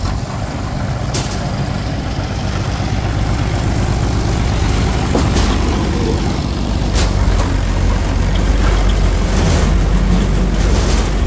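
A trolley's engine starts and settles into a loud, steady rumbling run close by, with a few sharp clanks and hisses over the continuous drone.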